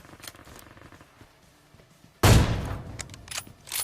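An M24 sniper rifle fired in a mobile battle royale game cracks once loudly and close, its echo trailing off over the following second, after a quiet stretch of faint game ambience.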